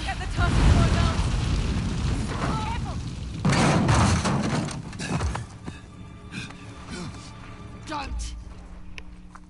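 Heavy gunfire and booming blasts in the Uncharted video game, loud and broadband in bursts near the start and around the four-second mark, then thinning into quieter scattered shots over a low rumble, with voices mixed in.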